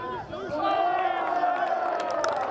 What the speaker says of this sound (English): The crowd getting involved.